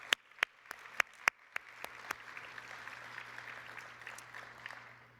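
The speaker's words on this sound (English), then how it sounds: "please give both of them another round of applause" At a nursing conference, a few sharp, separate claps ring out before the audience joins in a moderate, steady round of applause that slowly tapers off.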